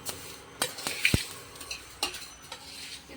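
Whole spices being dry roasted in a pan give off light, scattered crackling pops with faint scraping and stirring, close by and quiet with no voices.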